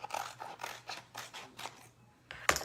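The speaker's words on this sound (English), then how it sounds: "So we're gonna take our transfer and we can cut these off" Scissors snipping heat transfer elements, about eight quick rhythmic blade cuts close up, followed by a brief pause and one sharper snip or scrape at the end, with no talking.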